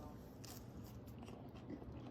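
Someone bites into a crunchy, golden-brown thin-crust hickory smoked pizza cooked on a Char-Griller Auto Kamado, giving a close, short, crisp crunch against soft background noise.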